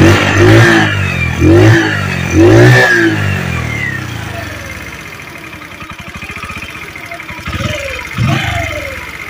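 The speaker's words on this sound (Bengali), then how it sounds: "দেখতে পাচ্ছেন বাইকটার সাউন্ড কোয়ালিটি, বাইকটার সাউন্ড কোয়ালিটি অনেক সুন্দর আছে" A Bajaj CT 100 motorcycle engine revs hard three times up close, then settles into a fast, even idle putter with a couple of lighter blips. Someone talks briefly near the end.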